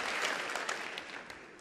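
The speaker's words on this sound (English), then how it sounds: "Thank you for clapping." A comedy festival audience claps in a brief burst of dense applause that fades over under two seconds, with no talking.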